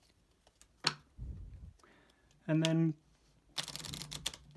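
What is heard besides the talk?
shuffling a deck of cards for the Heroes of Tenefyr board game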